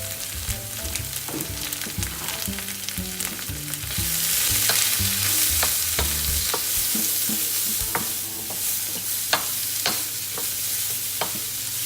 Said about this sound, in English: So into the wok, I'm just going to put a good swig of sesame oil, which will go well with the sesame seeds, and then straight in with all my veg